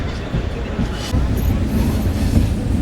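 A Tirumala Express general coach rolls along after leaving Ongole, with a loud, close, steady rumble of wheels on rails and faint clatter and squeal over it.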